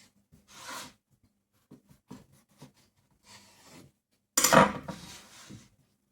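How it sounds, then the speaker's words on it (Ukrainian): A knife scrapes and saws through baked khachapuri, cutting it into triangles like pizza on a wooden board in several separate strokes, with a louder cut near the end and small clicks between. "Я нарізаю їх як піцу. Ось такими трикутничками."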